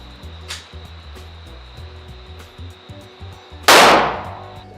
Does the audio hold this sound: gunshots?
yes